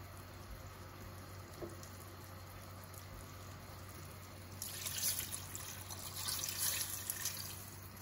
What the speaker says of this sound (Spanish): ahora ya vamos a echarle la agüita